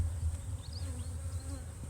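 Honeybees buzz as a steady, low, faint hum from a hive colony during a brood box inspection, with a few brief higher whines of individual bees passing close.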